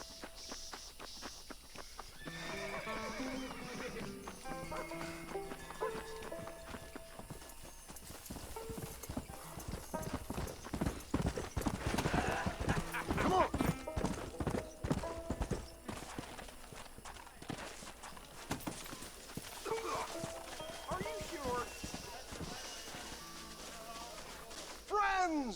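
Horse hooves clip-clop steadily through a Red Dead Redemption game scene, a walking rhythm that carries on for the full stretch beneath talking voices and other game sounds, rising to a denser passage in the middle.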